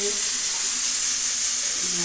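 Spices for a tempering sizzle in hot oil, a dense continuous hiss held close and loud for the whole stretch, with faint kitchen sounds underneath.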